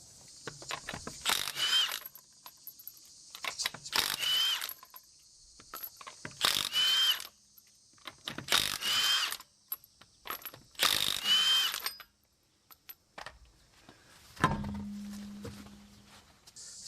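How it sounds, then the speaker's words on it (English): A ratchet with a 21 mm socket removes lug nuts on a Toyota Highlander, sounding as five close, loud bursts of rapid clicking ratcheting, each lasting about a second with pauses between, followed by a short low hum and clunk. "Then we'll go ahead and remove the lug nuts, and it's just going to be a 21 mil."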